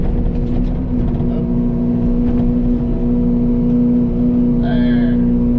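Diesel excavator engine idling steadily near the mic while grading a limestone driveway, a constant low drone with a strong tonal hum and brief higher whine near the end.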